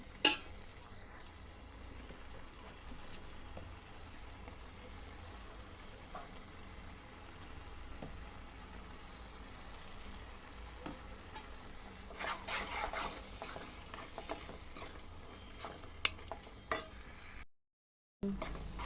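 Ridge gourd and dried prawn curry is stirred in a pan, giving a steady, low scraping and sizzling texture with a few brighter scrapes near the end and no talking.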